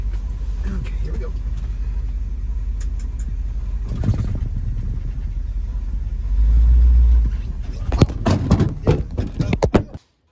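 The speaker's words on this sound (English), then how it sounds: "after taking the truck out for a little bit of a spin, she stops straight as an arrow" A 1953 Ford F-100 pickup with converted disc brakes drives along, its low engine rumble steady under road noise, with a heavier surge midway, then clunks and rattles near the end before cutting off.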